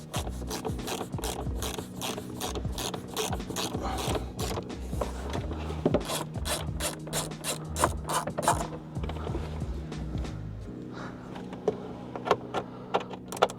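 Ratchet working Torx T30 screws inside the cabin of a 2015-2023 Jaguar XE, heard as close rapid clicking ratchet bursts in repeated runs with some metallic rattles, no talk.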